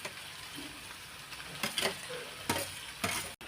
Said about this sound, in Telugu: ఇగో ఇట్లా మళ్ళీ మొత్తం మంచిగా కలుపుకొని దాని ఒక మూత వేసుకోవాలి